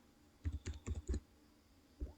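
Keystrokes on a computer keyboard while entering a web address into Chrome settings: a quick burst of about eight close, crisp clicks, a pause, then one more tap, with no talking.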